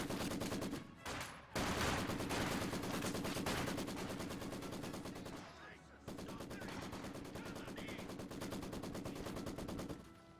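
A Maxim machine gun fires in the Company of Heroes 2 war game, with long, dense, rapid bursts of close, loud automatic fire that carry on almost without a break, stopping only briefly now and then.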